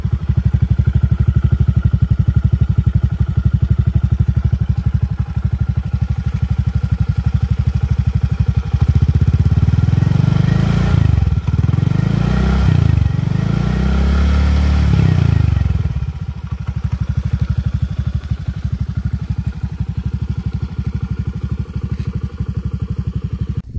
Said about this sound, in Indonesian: sekarang kita nyalain suara dari knalpot TZM Project